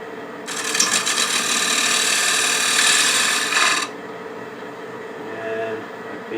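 A wood lathe turns a bead on a picture frame as a cutting tool meets the spinning wood, a loud steady hissing cut lasting about three seconds before dropping back to the quieter hum of the running lathe.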